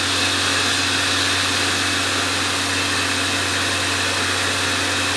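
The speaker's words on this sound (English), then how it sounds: "I just turned the compressor on, and you can see that it's just keeping the chips out of the way." An air compressor runs while a machine cuts propellers, giving a loud, continuous mechanical drone with a steady low hum that does not let up.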